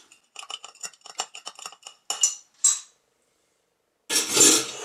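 A Blue Curaçao cocktail is stirred in a glass, a spoon clinking rapidly against the sides in a quick rhythmic run, then a few separate knocks and a brief scraping rattle, all close and with no voices.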